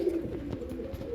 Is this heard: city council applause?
no